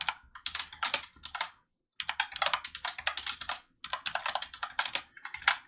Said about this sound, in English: We're just going to type this in manually.